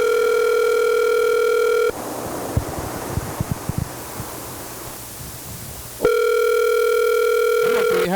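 A telephone call rings out: loud steady ringback tones play, break off for a few seconds of rustling and noise, then resume; no voices.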